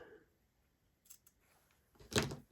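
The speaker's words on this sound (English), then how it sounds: "We're just gonna snip this curve." Scissors snip through paper along a curve while making dollhouse pieces, a faint brief cut early on followed by one louder, crisp close snip near the end, with quiet between.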